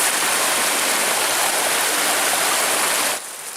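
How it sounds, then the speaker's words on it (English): Small waterfall on a river at Pictured Rocks, Michigan, formed by a fallen tree, rushing water heard close and steady with a broad hiss, dropping a little in level near the end. "See a little small waterfall right there."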